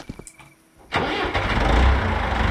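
A tractor engine cranks over and catches in Thankskilling Day, a short startup followed by a loud, steady low rumble that settles into a running idle, with no one talking.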